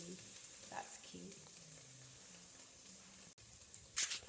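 Chopped onions for a chicken curry fry in a pan while being stirred, giving a soft, low sizzle with occasional scraping. A sharper clatter of utensil on pan comes near the end.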